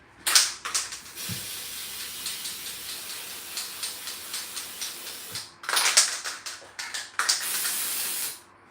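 An aerosol can sprays decoration onto a birthday cake in bursts of hissing, one long steady spray followed by several shorter puffs, close and fairly quiet, with no talking.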